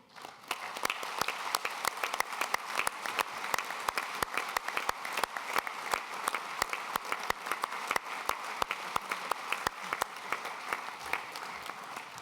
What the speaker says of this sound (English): I invite you to give Florence a big round of applause